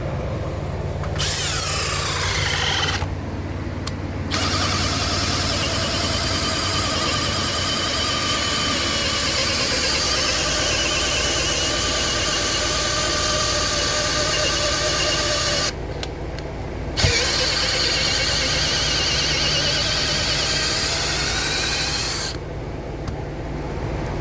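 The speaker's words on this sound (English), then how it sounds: "Drill a hole." A power drill whines steadily while boring a hole into a wooden log, running for long stretches with a few brief pauses and a gritty, grinding edge.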